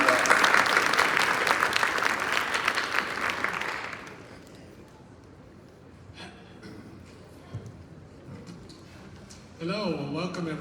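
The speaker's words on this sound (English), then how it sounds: "David, give him a round of applause." An audience at a community meeting in New Orleans East gives a strong burst of applause for about four seconds that fades out, followed by quiet room tone and a voice starting to speak at the end.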